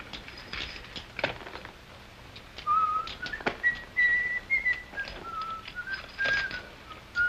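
A person whistles a wandering tune of short rising and falling notes, moderately close, over faint clatter and background noise in an Old West scene, with no talk.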